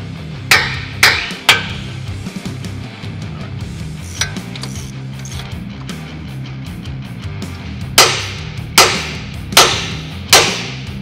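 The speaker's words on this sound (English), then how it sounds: "I'm gonna give it the knuckle a couple of taps to unseat this taper" A hammer strikes the aluminum steering knuckle of a 2022 Toyota Tundra TRD 4x4 to unseat a taper, giving sharp metallic taps, a few early and a quick run of four later, close and loud over faint workshop clatter.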